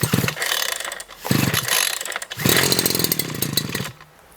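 A Dnipro-M petrol brush cutter engine sputters briefly after a pull, cuts out, then catches on the third try and revs in a loud buzzing whine before dropping back to idle.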